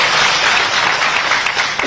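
An audience at a rally in Ujjain claps continuously in a dense, loud wash of applause with no pauses, no speech rising above it.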